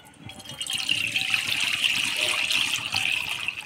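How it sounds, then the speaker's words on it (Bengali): Water pours into a pot set on the stove for cooking, a steady close trickle and splash lasting a few seconds. "তো সবার প্রথমে আমি উনানে জল বসাই দিব"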